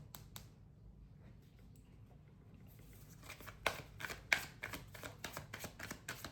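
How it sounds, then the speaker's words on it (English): Tarot cards are shuffled in quick, riffling bursts, soft at first and then sharper, with crisp snaps from the deck. "That was a really firm shuffle."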